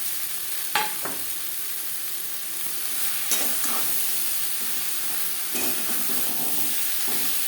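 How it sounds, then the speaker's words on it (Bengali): Ridge gourd pieces sizzle steadily with onions, chili and tomato in a pan of hot oil, with a few sharp scrapes of a spatula as the vegetables are stirred, close and constant with no voices. "পেঁয়াজের সাথে ধুনুল বেশ ভালো করে মিক্স করে দেবো"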